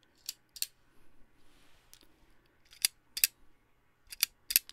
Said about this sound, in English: Shutter still works fine.